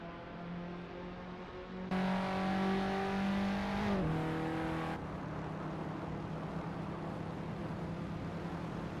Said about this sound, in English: Let's have some fun watching these ARA-driven cars race in the simulator.